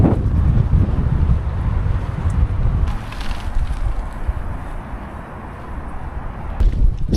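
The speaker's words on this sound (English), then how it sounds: "this headwind is killing me" A strong headwind buffets a cyclist riding across China, heavy roaring gusts rumbling loud and close against the microphone throughout, easing slightly midway and then surging again near the end, with no talking.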